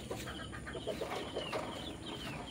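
Backyard chickens cluck in short, repeated bursts close by, several birds overlapping against a quiet farmyard background.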